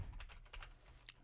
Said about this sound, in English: I have a very old keyboard, 1986 IBM AT keyboard, because it weighs 12 pounds.